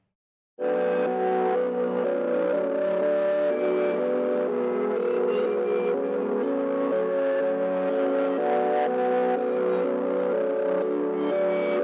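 A reversed, pitched-up trap melody from a Cymatics starter pack, processed with halftime, reverb, a low-cut filter and high-boosting EQ, plays as a smeared, washy loop of sustained tones, steady and alone.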